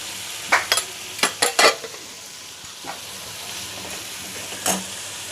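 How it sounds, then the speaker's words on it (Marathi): Pav bhaji masala with spices roasting in butter in a pan: a steady soft sizzle, broken by a quick cluster of sharp spoon scrapes early on and one more stir later, close up. "असा मसाला तेल सुटूस्तोपर्यंत छान बटरमध्ये भाजून घेतला आहे"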